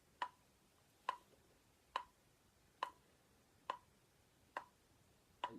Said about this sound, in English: I'm going to use a metronome on my phone using an app called Guitar Tuner